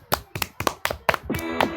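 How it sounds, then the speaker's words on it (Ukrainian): About seven sharp hand claps ring out close by in an uneven rhythm, each a crisp slap, with a faint tonal hum creeping in near the end. "Аплодисменти."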